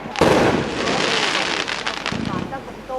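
Fireworks display over Sun Lake at a hot spring resort hotel, a dense run of crackling bursts and pops continuing throughout, fairly loud and close, with crowd voices talking underneath.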